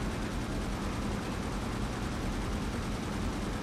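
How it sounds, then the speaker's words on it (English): Explosions and gunfire in the 007 Agent Under Fire video game form a dense, constant roar of blasts and rumble that stays loud and steady for the whole stretch. "Explosions."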